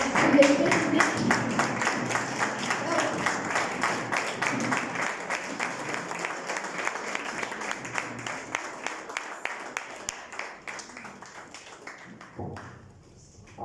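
An audience at a cohort ceremony applauds as participants stand, with dense continuous clapping that runs steadily and thins out toward the end, a voice faintly present at the start.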